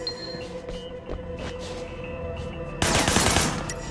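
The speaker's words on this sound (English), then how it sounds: "Shooting at the guys over there." Gunfire from the PC game Sleeping Dogs: scattered shots over a steady game soundscape, then a loud dense burst of rapid fire in the final second.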